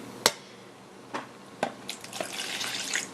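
Lemon juice poured into a bowl in a home kitchen while making Vietnamese beef pho: a few separate drips and splashes, then a soft, continuous trickling pour building toward the end, quiet and close.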